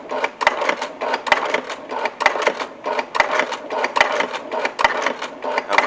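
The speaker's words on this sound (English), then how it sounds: "I'm just going to run that presser foot right down the center" A sewing machine stitching a double magazine pouch, its presser foot running down the center of a wet-formed seam, with a steady loud rhythmic clatter and regular sharp knocks throughout.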